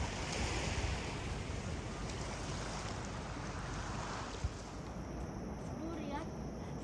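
Sea surf along the coast at Baler, Aurora, taken in from the Ermita Hills lookout: a steady, broad wash of waves and wind that holds fairly even throughout, with no clear single breakers standing out.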